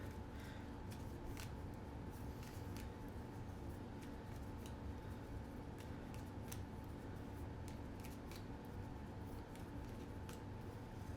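A deck of game cards is shuffled on a tabletop during a Kingdom Death: Monster session, giving quiet, repeated riffling and flicking snaps close by over a faint steady hum, with no talking.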